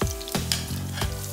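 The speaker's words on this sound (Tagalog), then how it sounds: "dun sa mainit na pan, maglagay tayo ng garlic" Garlic sizzles in a hot pan for Talakitok in black pepper sauce, a steady close frying hiss with a few sharp crackles and pops from stirring, no voices.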